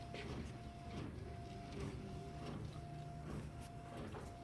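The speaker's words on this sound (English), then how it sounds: "right now we're demonstrating the fact that we're printing two images side by side" A Polyprint Texjet garment printer running a print job with two images side by side, a quiet, rhythmic series of whirring printhead passes with a thin mechanical whine repeating about every second.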